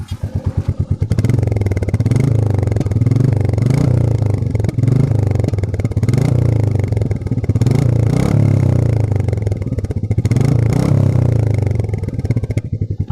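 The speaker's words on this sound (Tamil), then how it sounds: "ஸோ இப்போ வந்து நம்ம எக்ஸாஸ்ட்டுக்கான சவுண்டை வந்து பார்ப்போம்." Close, loud exhaust note of a Royal Enfield Meteor 350 motorcycle, its 350cc single thumping steadily at idle with repeated throttle revs swelling and dropping, a faint metallic clatter underneath.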